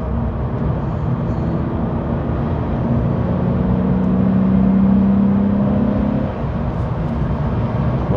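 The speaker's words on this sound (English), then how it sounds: "just to give you a little sound of the engine" A Porsche 911 (993) Carrera 4 engine drones steadily from inside while driving, its pitch climbing in a long rising whine before dropping back to a lower hum.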